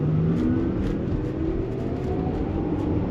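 A 2023 Audi e-tron Sportback S line electric car drives past smoothly and quietly with a soft, futuristic whine and low rumble, steady and continuous without any engine roar.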